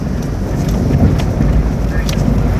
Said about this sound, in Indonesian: Anginnya banyak banget teman-teman.